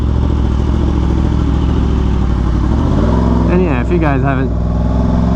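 A Yamaha R1M sport motorcycle engine while riding, a steady loud drone under someone talking, then a quick rising and falling rev near the end as the throttle is worked.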